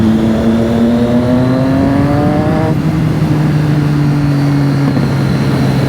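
A Triumph Street Triple motorcycle rides along a wet road, its engine note holding steady and then dropping as the rider shifts gear, loud and constant under steady wind noise.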